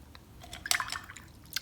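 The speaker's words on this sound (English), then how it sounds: "I dip it in the water" A paintbrush dipped and swished in a water cup while watercolor painting, a soft close wet dabbing and clinking with faint drips over quiet background hiss.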